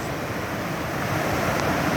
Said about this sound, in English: You can sit here. Listen to the river.